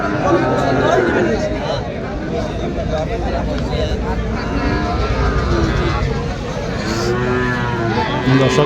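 Bull cattle at a crowded rural livestock market, with lowing and moos rising over a steady crowd hubbub and chatter throughout, people talking nearby.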